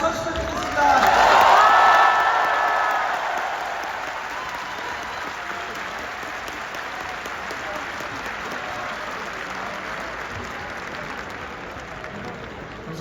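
A football stadium crowd at a Daegu FC relegation playoff match bursts into loud applause with some cheering, peaking early and then fading into a long, steady patter of clapping and crowd murmur, heard from within the stands.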